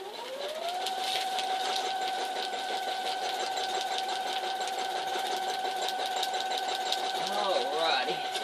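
Sewing machine stitching a newspaper quilt, a steady rapid mechanical clatter running continuously up close at moderate volume, with a brief change in pitch near the end.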